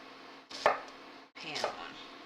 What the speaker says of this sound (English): I'm going to slice my other half of the onion